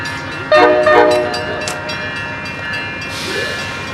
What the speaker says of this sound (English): Kirkwood, Missouri, the Amtrak 314 departure.